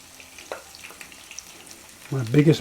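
Soft crackling sizzle of chicken wings frying in oil, with a louder burst of clatter and a voice near the end.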